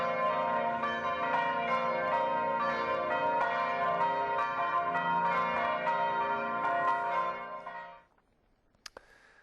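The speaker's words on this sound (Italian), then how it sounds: "Infine le campane a distesa, tutte le chiese ed i campanili della diocesi si sono unite in questo corale grido di speranza." Church bells ring in a full peal from the churches and bell towers of an Italian diocese, a dense, steady clangor of overlapping strikes that fades out near the end, leaving near-silence.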